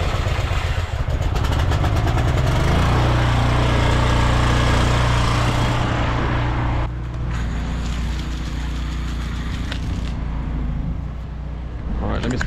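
A pressure washer fitted with a high-volume rinse gun roars steadily and loudly close by, its engine-like drone and rushing spray continuous throughout, dipping slightly partway through, while a voice speaks over it.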